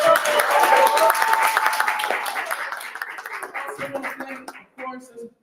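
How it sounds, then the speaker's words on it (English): An audience at a live event claps for honored elders, steady applause that fades gradually with some cheering and a voice in the mix, ending in a few stray claps. "a big round of applause for our living legends in here"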